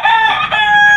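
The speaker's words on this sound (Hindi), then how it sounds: "ये देखें जी मुर्गा हमारा, ये मियाँ वाली ब्रीड का है।" A single loud, close crow from an old-bloodline Aseel rooster of the Miyan wali breed, drawn out and strong for the full second.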